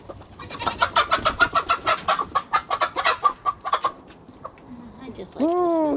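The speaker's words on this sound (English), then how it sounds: "Sputnik is our fastest chicken." A hen clucks in a quick run of loud, close, rhythmic pulses, pauses, then breaks into a sharp rising squawk at the end.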